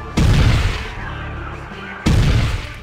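Two heavy gunshot blasts in the Warhammer 40,000: Chaos Gate video game, about two seconds apart, each a loud boom decaying into a rumbling tail.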